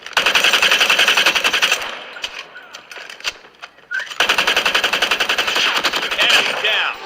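Rapid automatic gunfire from a video game plays through the built-in speakers of a OnePlus Pad tablet, loud bursts of fast rattling shots with a short lull in the middle before firing resumes.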